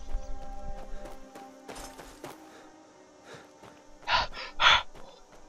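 The player character panting heavily in Skyrim: two short, breathy gasps near the end, close and fairly loud against a quiet ambient backdrop with soft sustained music tones.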